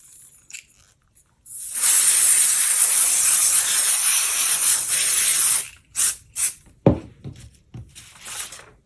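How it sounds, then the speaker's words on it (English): A continuous aerosol spray of basting adhesive hisses steadily for about four seconds, followed by a few short rustling and handling noises. "So I'm just going to spray actually the back of this."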